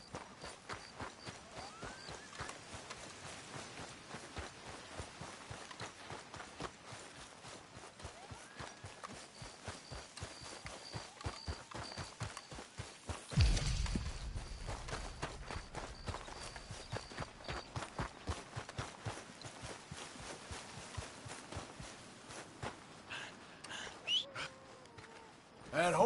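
Horse hooves clip-clopping steadily on a trail in Red Dead Redemption 2, a fast regular beat running throughout, with a brief heavy thump partway and low background sounds.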